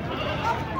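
Goat bleating at a goat market selling Barbari goats, a short bleat rising over nearby talk and market chatter.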